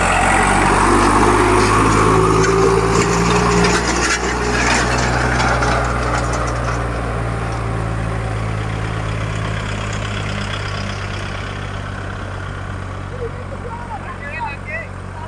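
A Swaraj 855 tractor runs in four-wheel drive, pulling a harrow in a field. Its engine gives a loud, steady, close drone that eases off slightly over time, with voices talking over it.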